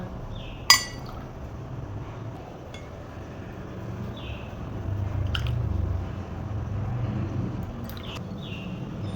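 A drinking glass of water is picked up and set down, giving one sharp clink followed by a few faint taps and soft liquid sounds against low room noise.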